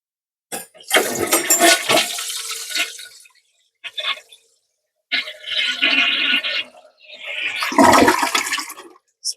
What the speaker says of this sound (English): So that did a really beautiful flush.